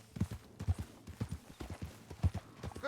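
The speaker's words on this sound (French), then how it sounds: "On va changer de cheval." A horse's hooves clip-clop in a steady walking rhythm in the video game Red Dead Redemption 2, fairly close and moderately loud, with no voices.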